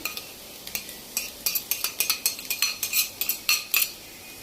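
A utensil scrapes and clinks against a pan while minced meat is stirred with red and green peppers, giving a quick run of bright metallic taps and scrapes in an even rhythm, close and moderately loud, with no talking.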